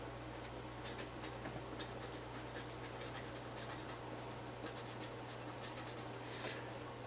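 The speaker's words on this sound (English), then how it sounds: "We'll write it down." Chalk or marker scratching out L'Hopital's rule during a calculus lesson on indeterminate forms, a quiet run of short strokes and taps over a steady low hum.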